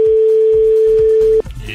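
A steady telephone ringing tone sounds on a call-in line during a French radio show, holding loud and unbroken for about a second and a half before stopping abruptly into background music.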